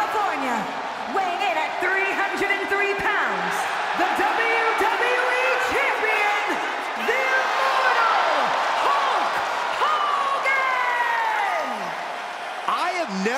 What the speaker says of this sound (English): never seen someone get a crowd this riled up.